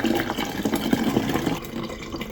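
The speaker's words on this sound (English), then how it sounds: "you fill it up until there's a chime." Water is poured steadily into a tank, a close, continuous splashing gurgle with small fluctuations that eases slightly toward the end.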